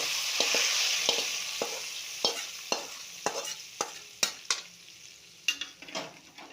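Tempering poured into Palakkad-style horse gram curry, with a broad sizzle throughout and a run of sharp crackles and pops spaced through it, fairly close with no voices.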